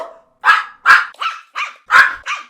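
A person imitates a small dog's yap with six sharp, barking bursts in a steady rhythm, loud and close, with no other talk.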